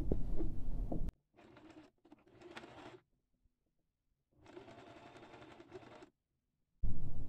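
A sewing machine stitches a round decorative fabric pillow in short bursts, a rapid close mechanical chatter running for a second or two at a time, with pauses between runs.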